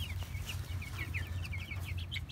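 Chickens cluck softly in a steady stream of short, quick calls, fairly close, over a low background rumble.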